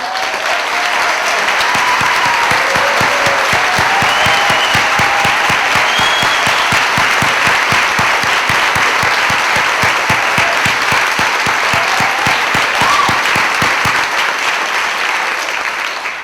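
A festival audience applauds its sponsors at a film festival's opening night, with loud, sustained, dense clapping from a large crowd that holds steady for about fourteen seconds before tapering off.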